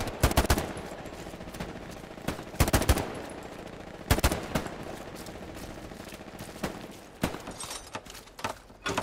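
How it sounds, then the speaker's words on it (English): Bursts of machine gun fire in the World War II shooter game Hell Let Loose, several rapid volleys at irregular intervals amid lighter scattered shots, fairly near and loud over a steady background rumble. "Oh no, there's two machine guns."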